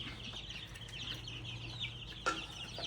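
Brahma chickens cluck softly in a front yard, with a few short, near clucks over a low steady background hum and no talking.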